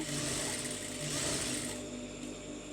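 A sewing machine runs continuously while stitching piping onto a fabric sleeve, a close, steady mechanical whir that stays even throughout with no talking.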